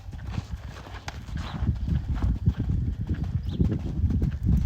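Horse hooves clip-clop steadily on the ground as a horse is sent out and moved around during groundwork, close by, with irregular footfalls and a faint snort or whinny.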